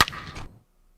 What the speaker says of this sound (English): Because every time we'd hit a home run in a home run derby,